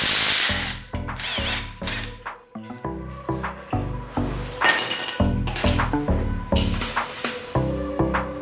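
An impact wrench on a 3/4 inch nut while mounting a Hi-Lift jack on a 2018 Ford F150, with close, loud repeated hammering bursts separated by brief pauses and metallic clinks of the socket, with no voices.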